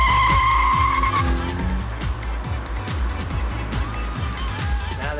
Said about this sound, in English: in a couple of seconds time, will be accelerating because I'll be putting my foot down on the juice pedal